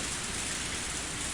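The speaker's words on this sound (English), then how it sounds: "Only the sound of the rain filled the tense moment." Steady rain falling on a surface, a constant dense hiss with no gaps, fairly close and even in loudness throughout.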